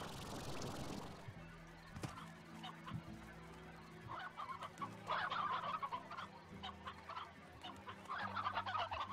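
Chickens clucking in the video game Slime Rancher, a string of short, fairly quiet clucks and calls coming in bursts over a low background tone.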